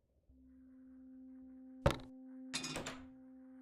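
A gun dropped on the floor in The Cat Lady video game, heard as a single sharp thunk followed by a short clattering tumble, close and clear over a steady low hum.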